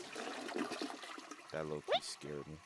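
Toilet flush in the puzzle video game Floor Plan 2, a short watery gurgle and rushing swirl that follows someone speaking and breaks in between his words.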